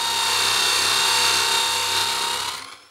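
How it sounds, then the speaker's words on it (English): A Nirey electric knife sharpener motor whines steadily and loudly under load as a blade is drawn across its abrasive wheel, a dense grinding hum with bright high tones that fades out in the last half second. "Listen to the noise of the motor."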